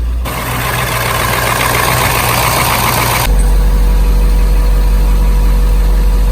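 International 4700 truck engine running just after starting, a loud steady diesel idle drone close by, settling into a deeper, heavier rumble partway through.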